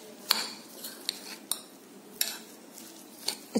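A spoon mixes semolina and cream in a bowl for a bread pizza topping, giving sparse sharp metallic clinks and taps at irregular intervals over quiet, with no talking.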